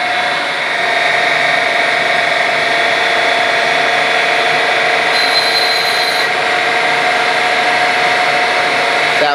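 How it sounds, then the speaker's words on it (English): A grinding machine spindle runs a steady, loud whine while the grinding wheel is dressed, with sustained tonal hum and brief brighter hiss partway through, no speech. "we're going to take an initial dressing off the wheel"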